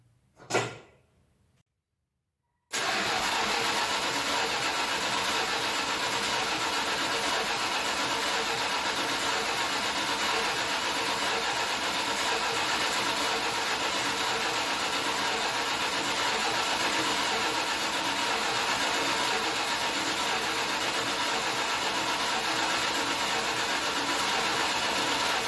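A 1972 Dodge Challenger with a new fuel pump: a short clunk, then a steady engine drone that runs without a break for over twenty seconds, close and fairly loud.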